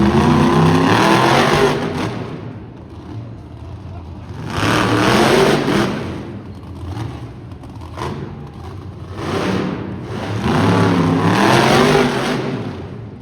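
A monster truck engine roars on the track during a best-trick competition at an Edmonton motorsports show, heard from a distance in repeated swelling bursts of revving that rise and fall across the crowd-filled arena.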